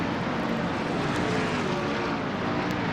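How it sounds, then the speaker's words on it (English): A dense, continuous roar of many race car engines drones past in a stock car racing video game at Daytona, steady and loud with no talk. "There's so many engines going by."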